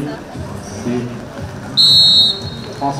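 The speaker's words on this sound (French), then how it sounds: "c'est sifflé" A referee's whistle blasts once, loud and sharp for about half a second, during an indoor futsal match, with commentary and faint crowd noise underneath.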